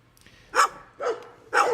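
Three loud, separate dog barks at night outdoors in a slow, even rhythm, fairly close, with no voices.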